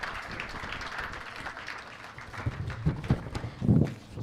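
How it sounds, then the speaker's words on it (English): An audience at an education summit applauds to welcome a speaker on stage, a steady wash of clapping that swells louder toward the end, with a few sharp claps standing out. "Please let's welcome him with a big round of applause."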